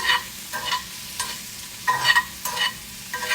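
Green apple pieces stirred in a pan, a spoon scraping in repeated bursts roughly every half second to second, with a light sizzle underneath; no talking.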